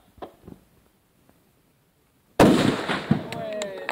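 An SPR-2 sniper rifle fires a single loud, sharp shot at an army test range. The report follows a quiet lull and rings on into a long echoing tail, with faint voices heard before it.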